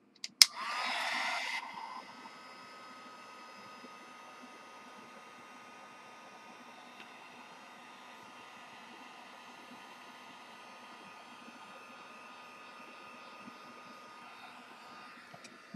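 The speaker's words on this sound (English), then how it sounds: "you can dry a little bit, and then hit it again with the heat tool." A heat tool drying Gelatos colour on paper blows a short, airy whoosh of about a second and a half, followed by a long stretch of faint, low hum.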